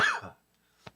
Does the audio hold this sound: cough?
yes